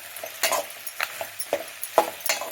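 Kashmiri chilli is sautéed in a pan, with a spatula scraping and tapping against the metal in quick, uneven strokes over a faint sizzle, close and moderately loud.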